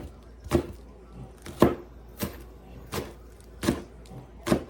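A knife chops green onions on a cutting board, six crisp, evenly spaced strikes about a second apart, close and clear against a quiet background.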